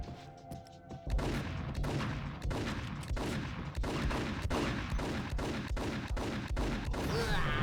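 Rapid, loud gunfire from the video game Max Payne, a steady volley of sharp shots roughly every half second over a dense game soundscape, starting abruptly after a quieter musical opening.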